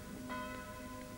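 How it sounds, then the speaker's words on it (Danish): Church bells ring before a Danish church service, their sustained, overlapping metallic tones faint and distant under a soft ambient hum as the peal draws to a close. "Klokkeringningen er ved at være forbi."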